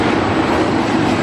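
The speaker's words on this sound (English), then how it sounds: "We're literally waiting like at the track and this huge train came by." A train passes close at a station platform, a loud, dense, steady rumble and roar filling the whole moment without letup, with no voices.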